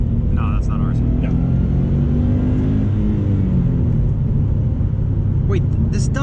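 A turbocharged Subaru WRX engine revs high as a loud, continuous rumble with a rising tone heard from inside the car, with brief voices over it.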